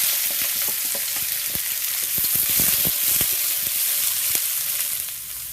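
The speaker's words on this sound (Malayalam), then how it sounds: "ഇനി അതിലേക്ക് നമ്മൾ സവാള ഇട്ട് കൊടുക്കാം." Onions sizzle in hot coconut oil in a pan, a dense steady crackle close up with scattered sharp pops and spatters throughout, no voices.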